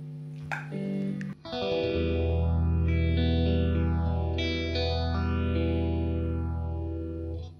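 Electric guitar chords sustained through a Boss PH-1 phaser pedal, the tone swooshing up and down in slow repeating waves, loud and close.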